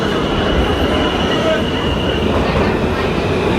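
A New York subway train rumbles steadily and loudly throughout, a dense continuous roar of wheels and car noise with a faint high whine, close and unbroken, with possible faint voices mixed in.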